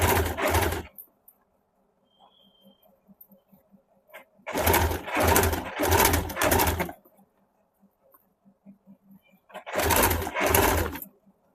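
A sewing machine stitches a suit collar in loud, rapid bursts: one short run, a longer run of several seconds, then another run after a quiet pause, with faint low sounds in between.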